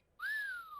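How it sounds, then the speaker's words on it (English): Wolf whistle from a child's toy sound effects machine, a single clean synthetic whistle rising then sliding down, heard alone and fairly clear. "a little bit of a wolf whistle"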